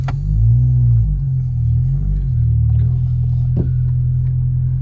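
A Honda Civic FN2 Type R with a newly fitted short shifter pulls away from a driveway, its engine a deep, loud, close rumble that rises and shifts in pitch as it accelerates briefly, without talk.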